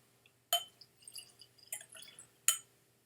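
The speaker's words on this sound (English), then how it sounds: "I'm going to pour this dram of 8-year-old Kilkerran from the Glengyle Distillery in Campbeltown" Eight-year-old Kilkerran single malt whisky from Campbeltown is poured into a glass: a few sharp clinks of bottle on glass, then brief splashing and trickling bursts, close and fairly quiet, with no talking.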